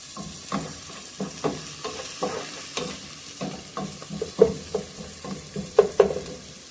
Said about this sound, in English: I'm going to let them saute for a bit.